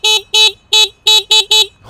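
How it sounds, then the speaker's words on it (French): Six loud, close, evenly spaced beeps from the horn of a Vsett 11+ electric scooter, each a bright two-tone electronic honk, sounding alone in quick rhythm. "ils ont mis le klaxon comme sur les scooters"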